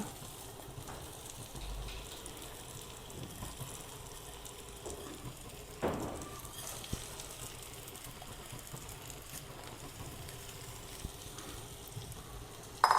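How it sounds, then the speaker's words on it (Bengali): Washed rice stir-fried in hot oil in a pan for an egg-potato rice dish, giving a steady low sizzle with occasional scraping and stirring clatters, close and moderately quiet, with no talking. "চালটা দিয়ে একটু খুব ভালো করে পাঁচ মিনিট মতো কষাবো"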